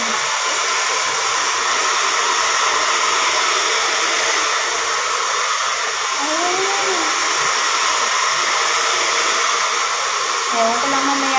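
A hair blow dryer runs steadily nearby, a loud, unbroken airy whine that holds for the whole stretch, with a faint voice briefly underneath.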